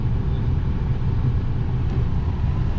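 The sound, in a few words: Ford Focus RS rally car engine while driving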